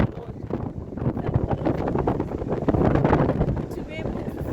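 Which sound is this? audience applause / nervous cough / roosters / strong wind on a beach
strong wind on a beach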